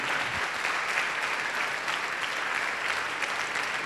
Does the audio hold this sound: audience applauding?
yes